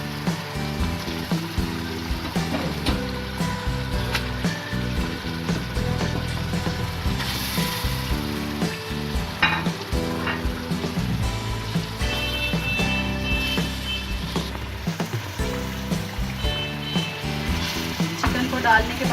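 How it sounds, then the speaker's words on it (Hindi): Chicken frying in a pan with tomato paste gives a steady, close sizzle throughout, with stirring clatter and scraping on top and occasional faint talk beneath. "चिकन को डालने के बाद 10 से 15 मिनट इसको हम फ्राई कर लेंगे अच्छी तरह से।"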